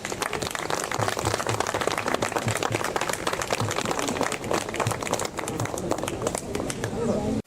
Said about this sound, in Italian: Facciamo un applauso.